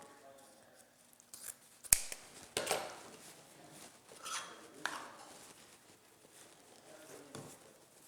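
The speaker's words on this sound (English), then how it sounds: "cut that 16-inch tail off" Scissors snip through deco mesh ribbon for a spring wreath tail, giving a few quiet, close cutting sounds along with crinkling mesh handling noise and soft background voices.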